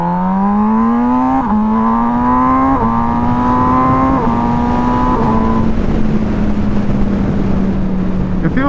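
A sport motorcycle accelerates hard from a stoplight, its engine note climbing loud and close through several quick gear changes before holding a steady, strong drone.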